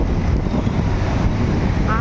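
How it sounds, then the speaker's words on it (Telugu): Waves on the Krishna River near the Prakasam Barrage, heard as a steady, loud wash of rushing water mixed with heavy wind buffeting the microphone, continuous throughout with no clear breaks. "అలలు మాత్రం బేభత్సంగా ఉన్నాయి."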